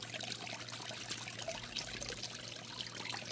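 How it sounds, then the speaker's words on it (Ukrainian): Liquid is poured in a thin stream into the small flowing brook of a garden pond, a quiet, steady trickle and splash running throughout with no talk. "Ось так я виливаю у струмочок."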